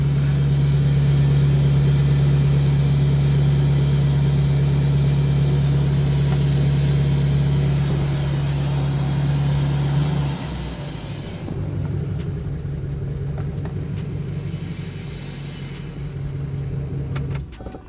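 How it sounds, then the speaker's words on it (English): A Subaru STI engine running at a steady high idle with a strong low hum and a faint whine, settling to a slightly lower, rougher idle partway through, close and continuous with no talk. "truck went into high idle again, engine light came right back on"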